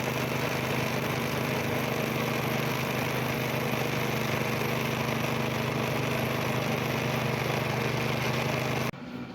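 A Jeep engine running just after a new spark plug has gone in: a steady, even idle hum close by that cuts off abruptly near the end, with no voices.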